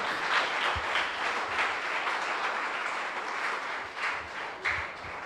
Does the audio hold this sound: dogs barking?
no